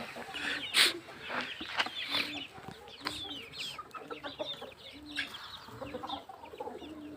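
Chickens and a rooster on a Kenyan poultry farm, a busy scatter of clucks and short squawks, close and fairly quiet, with frequent overlapping calls and faint voices in the background.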